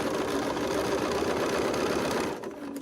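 A sewing machine stitches quilt blocks, a close, rapid, even whirring that runs steadily, then slows and drops off just before the end.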